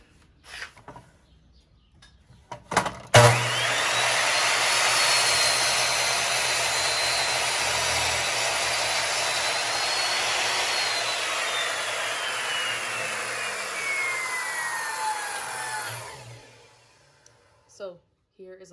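A power saw cuts through an old suitcase being upcycled into a stool, a loud, sustained whining buzz that runs about twelve seconds with a slowly falling pitch before stopping, with brief handling sounds around it.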